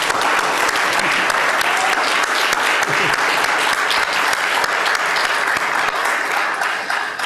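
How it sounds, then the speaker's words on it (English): Rousing audience applause at the opening of an environmental law conference, a loud, dense and even wash of clapping lasting the whole stretch and easing slightly at the very end. "I think they deserve a very rousing round of applause."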